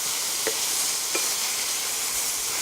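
Corn, onions and garlic sizzle steadily in a pan, a constant frying hiss with two brief stirring clicks, close and alone with no talk.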